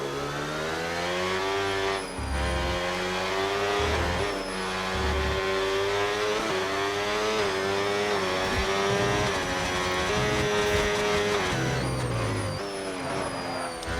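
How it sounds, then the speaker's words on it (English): A Mercedes race car engine screams at high revs, its pitch climbing and dropping through repeated upshifts and downshifts, loud and steady with a few brief dips between gears. "he's really jumping about the gearbox a lot, upshifting and downshifting a lot"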